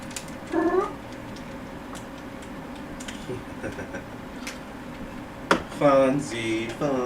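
A domestic cat meows a few times, once early and again in a longer, louder pair of calls near the end, nearby with quiet room noise between.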